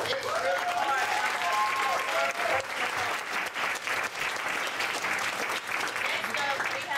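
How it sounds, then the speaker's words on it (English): Audience at a poetry night applauding a performer, sustained dense clapping from a crowd, with voices talking and calling out over the applause. "I want everybody to give her another round of applause"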